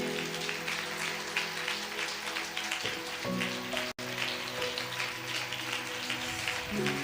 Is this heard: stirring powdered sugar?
no